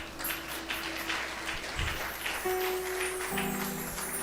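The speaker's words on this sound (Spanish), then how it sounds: "¿Cuánto podemos dar fuertes palmas al Señor?" A church congregation clapping loudly for the Lord, a continuous wash of many hands applauding together throughout, with steady tones sounding underneath.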